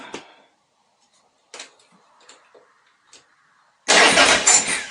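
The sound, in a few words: Harley-Davidson Sportster engine idling after idle adjustment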